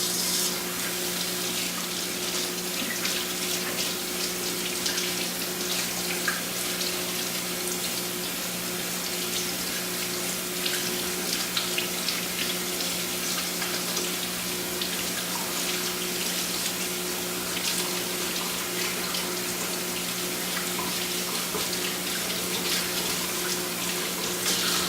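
Water runs steadily from a sink tap during food-safety hand washing, a constant close splashing rush with a faint tonal hum underneath, unbroken for about twenty-five seconds with no talk.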